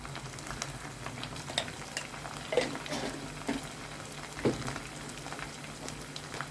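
Prawns frying in a pan with ginger-garlic paste, turmeric and salt, a steady close sizzle broken by intermittent scraping stirs, moderately quiet with no voices.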